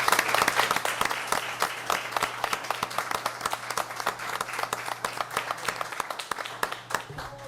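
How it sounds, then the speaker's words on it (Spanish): Sustained applause from an audience at a legislative session approving a reform to Mexico's federal labor law, dense clapping filling the room steadily and loudly from start to finish, with no one speaking over it. "Un aplauso, por favor."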